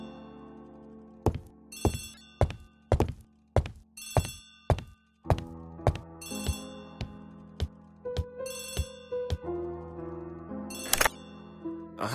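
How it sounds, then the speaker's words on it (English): An old telephone rings in a stately English home setting, sounding as a series of sharp metallic bell strikes with clanks in an irregular rhythm, near and clear, with soft musical tones underneath. "Poirot, the telephone."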